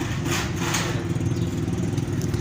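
A misfiring motorcycle engine runs steadily at idle with an uneven, sputtering beat, loud and close, with no voices.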